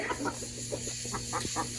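Chickens on a small family farm cluck in short, close bursts, several soft calls in an irregular rhythm over a low steady background hum.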